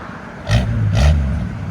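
A 1952 International L-100 pickup with a 220 inline six and dual glass pack exhausts gives two short, loud revs close by, settling into a rumbling idle between them.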